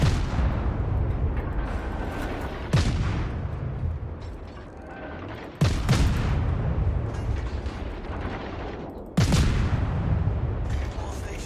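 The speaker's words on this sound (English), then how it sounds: "I'm immediately opening fire, hoping to get the fire to stick on him" Naval gun salvos from a Gearing-class destroyer in World of Warships, three heavy booms spaced a few seconds apart, each followed by a long rumbling decay under continuous ambient game noise.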